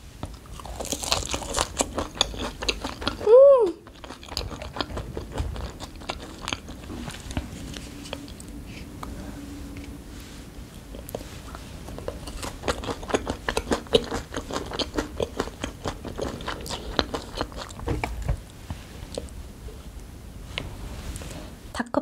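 Mukbang-style eating of potato from a Korean snack spread of rosé tteokbokki and fried chicken skin: close, crisp bites and steady crunchy chewing throughout, with one brief tonal squeak early on and no talking.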